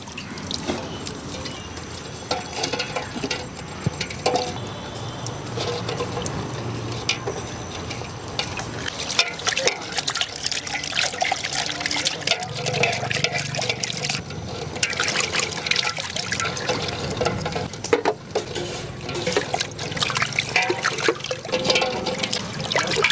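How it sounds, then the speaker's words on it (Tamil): Eggs are washed under running water in a village kitchen while preparing egg gravy. A steady, close trickle and splash of water continues for the whole stretch, with no talk over it. "ஃபஸ்ட்டு முட்டையை கழுவி எடுத்துக்கலாம்."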